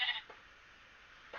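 A sheep in a video game bleats twice, a short wavering cry at the start and another at the end, with a quiet gap between them.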